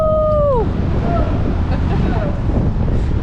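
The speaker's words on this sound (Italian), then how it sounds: "vento." Strong outdoor wind buffets the microphone in a steady, loud roar, with a few brief tonal whistles near the start.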